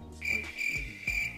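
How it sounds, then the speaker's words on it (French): A cricket chirping sound effect: two or three shrill, sustained chirps close up and fairly loud, with no talking. "la vidéo, c'est un zoom avec un bruit de criquet"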